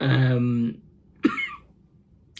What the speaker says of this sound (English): I've just got a bit of a cough that won't go away.